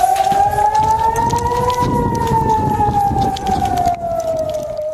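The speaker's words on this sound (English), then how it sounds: "Air raid sirens filled the air across the north" A loud air raid siren wails continuously in northern Israel during Hezbollah strikes, its pitch slowly rising and then falling, with faint background noise and no talking.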